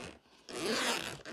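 A drone carrying bag's dual zippers being pulled open, a short tug followed by a longer, louder rasping zip, heard up close with no talking.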